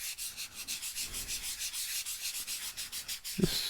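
Insulation material scrubbed into a drawing surface as a blending tool, giving steady rhythmic rubbing strokes up close, with a slightly sharper scuff near the end.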